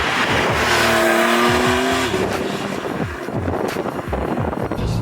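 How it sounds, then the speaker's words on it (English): A Porsche 991.2 Carrera S with a turbocharged engine, about 415 to 420 bhp, is heard close up as the engine note rises and falls. Exhaust burbles and crackles sound on lift-off along with a turbo whistle, with no talking over it. "get all of those cracks and burbles behind you. You get the lovely whistles from the turbos"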